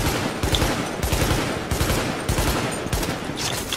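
Rapid bursts of gunfire in the video game The Division, loud and close, firing in repeated volleys with brief gaps while engaging a sniper.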